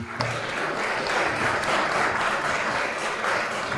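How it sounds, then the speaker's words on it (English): An audience at a shared parenting conference in New York gives a round of applause, a dense, even burst of many hands clapping that carries on for a few seconds. "Let's give them a round of applause for being here today."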